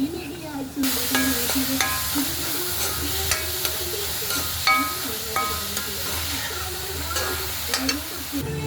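Chicken thoran with grated coconut frying in a pan, a steady close sizzle with a spoon scraping and stirring at intervals throughout.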